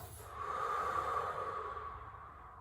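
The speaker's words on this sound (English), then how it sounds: "exhale through the mouth" A person exhales deeply through the mouth during a hip and groin cool-down stretch, one long airy breath that swells and then fades, close and alone.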